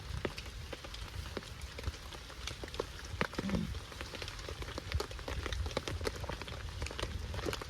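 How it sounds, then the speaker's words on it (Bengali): Rain patters on surfaces near an outdoor village cooking spot, a quiet, even wash of fine drops with scattered sharper ticks throughout. "বৃষ্টি এদিকে এসেই গিয়েছে"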